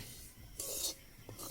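Semolina being stirred and fried in ghee, heard as a faint, close scraping and rubbing of a spoon against the pan in a couple of short strokes.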